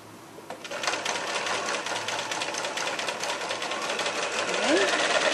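Domestic sewing machine stitching a seam on a large fabric market bag, running in a steady continuous whir at a slow, even pace, close and moderately loud throughout, with a voice talking over it.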